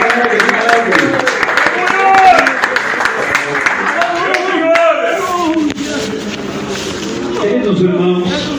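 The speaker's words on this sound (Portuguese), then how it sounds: "louve ao Senhor com palmas bem alegre, bem feliz esta noite" A church congregation claps along in praise during an evening service, steady rhythmic clapping mixed with loud singing voices and crowd noise throughout.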